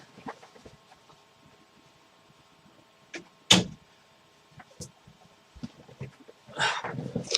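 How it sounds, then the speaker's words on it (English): A door being closed indoors, one sharp, fairly loud knock of the door shutting, with scattered faint handling sounds and footsteps before and after it. "Let me just close my door for a sec."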